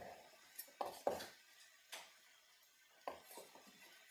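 Chopped onions are scraped and dropped into a plastic deli container, a faint series of soft knocks, clatters and brief scraping of a knife or board, irregular and close in a quiet kitchen.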